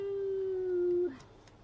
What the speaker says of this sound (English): that's not my dog, that's the neighbour's dog